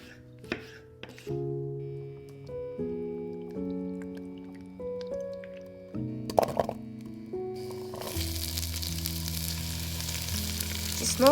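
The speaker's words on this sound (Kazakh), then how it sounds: "жақсылап қатты отта 5-10 минуттай қуырып аламыз" Garlic and tomatoes with sweet red pepper fry in a pan on high heat, a soft sizzle that swells into loud, steady crackling over the last few seconds.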